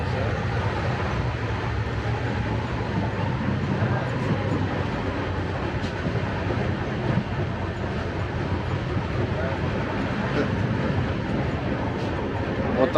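Steady rumble and rattle inside a standard open sleeper carriage of an Indian train in motion, a constant loud drone throughout with faint voices of passengers in the background.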